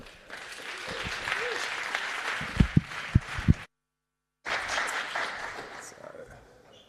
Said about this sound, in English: Please give a good round of applause for Langers.